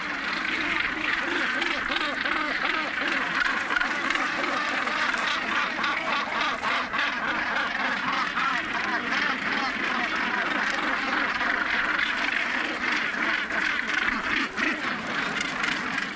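Northern gannets call continuously at a busy breeding colony, a dense overlapping chorus of harsh, quacking cries held at steady loudness throughout.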